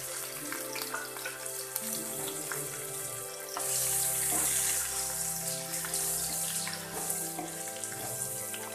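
Stuffed gunda sizzling in hot oil seasoned with asafoetida in a kadhai, a steady dense frying crackle that swells louder partway through, close and continuous with no voices.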